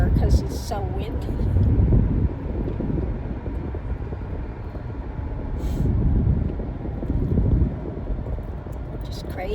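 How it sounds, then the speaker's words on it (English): Strong wind buffeting beside a roadway, a low rumbling roar that swells and fades in gusts, with traffic-like noise mixed in and a voice heard briefly. "all this stuff is blowing across the roadway out here because it's so windy"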